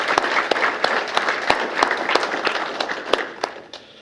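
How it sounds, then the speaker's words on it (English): A room full of people claps for retiring city employees at a mayor's recognition awards ceremony, with sharp individual claps standing out over the steady applause, which thins out toward the end. "So let's have a round of applause for all those individuals."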